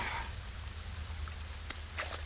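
Heavy rain falls in an action film scene as a steady, dense hiss with a low rumble underneath, continuous and with no voices.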